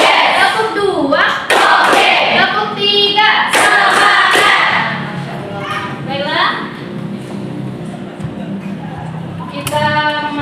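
Children in a classroom clap in short rhythmic bursts on a teacher's cue, loud and close, with the teacher's voice and children's voices between the claps.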